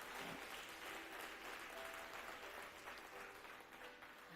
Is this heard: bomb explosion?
no